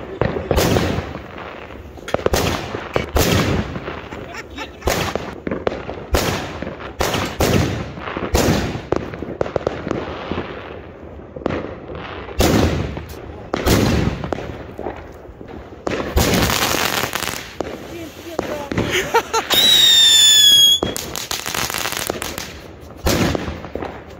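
New Year's Eve firecrackers and Polenböller explode one after another, sharp loud bangs with echoing tails scattered across the whole stretch, then a dense crackling burst near the end with a brief whistling streak.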